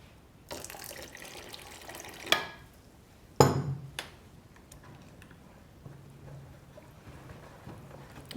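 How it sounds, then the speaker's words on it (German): Water is poured from a container into thick pancake batter in a kitchen, two brief splashing bursts separated by quiet, followed by faint soft clinks. "Jetzt geben wir noch einen Schluck Wasser dazu."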